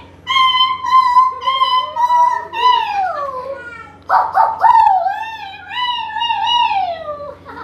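A person imitates the yelping whine of a kicked puppy during an animal role-play game. The long, wavering, high-pitched cries slide downward and break briefly near the middle before resuming, loud and close throughout.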